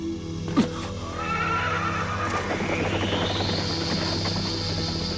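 Horse neighing in an animated series, a rising whinny that carries over a steady background of music and effects, loud and near.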